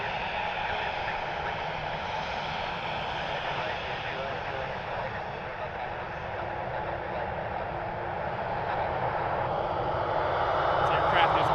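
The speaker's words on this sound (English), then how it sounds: "This aircraft is in the Evo Blue livery heading to O'Hare." An airliner flies near Cleveland Hopkins airport, its engines a steady broad roar that swells slightly louder toward the end as it passes fairly close, with no talk over it.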